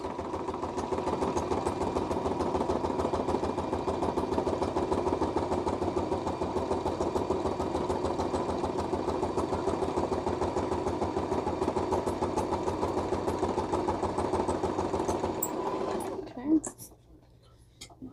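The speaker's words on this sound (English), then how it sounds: "So now we are just gonna let the machine do the work for us." A sewing machine stitches a cluster booklet in a steady, fast, close mechanical whir that runs unbroken for a long stretch, then stops abruptly near the end.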